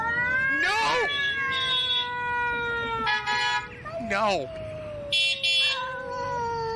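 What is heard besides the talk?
cat yowling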